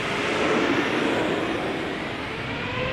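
KLM Boeing 787-10 Dreamliner taking off from Schiphol's Polderbaan runway, a broad steady jet roar at moderate distance, constant and unbroken throughout.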